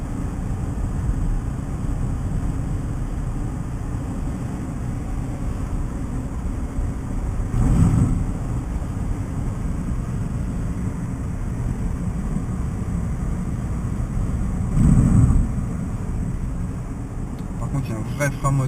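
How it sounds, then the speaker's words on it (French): Steady broadband rush of wind noise inside a 2014 Smart Electric Drive electric car at speed, continuous and fairly loud, with two brief swells partway through and talking over it. "On entend le bruit de l'air"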